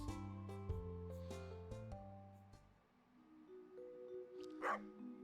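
A cartoonish dog barks in the Stardew Valley video game, a run of quick synthesized yips and bow-wows in a rising and falling pitch pattern, clear and up front, followed by a softer tonal chime.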